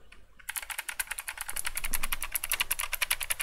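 A computer keyboard clatters with rapid, steady keystrokes close to the microphone, continuing evenly for several seconds with no talking.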